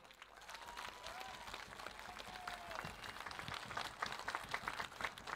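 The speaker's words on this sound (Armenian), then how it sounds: "Եվ ես ուզում եմ մեր ծափողջուններով, ծափերով ողջունենք" Audience applause at an outdoor political rally in Artashat with Nikol Pashinyan, a steady wash of clapping that swells toward the end, fairly distant, with a voice briefly audible over it.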